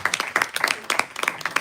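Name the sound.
audience clapping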